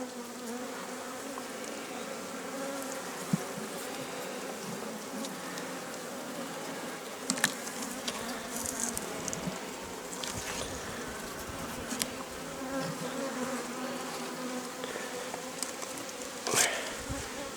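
Honey bees buzz continuously at an open beehive while the frames are worked, a dense, even drone of many insects close by with a few small knocks and clicks.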